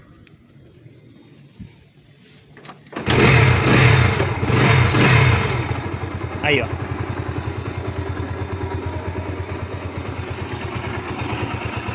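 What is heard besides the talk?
Yamaha YBR Factor 125 motorcycle engine starting and idling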